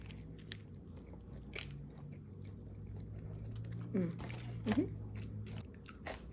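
Someone eats a bagel sandwich with cheese, tomato, spinach and turkey alongside tortilla chips and guac, giving soft close-up bites and crunches with faint background noise.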